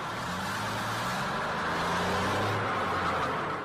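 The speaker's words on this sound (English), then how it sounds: "This is what the same truck sounds like to a 75-year-old man with a hearing aid." A 30-ton truck rumbling steadily as if heard through a hearing aid by an elderly man, a dull, muffled low engine drone with a broad hiss over it, holding level for a few seconds.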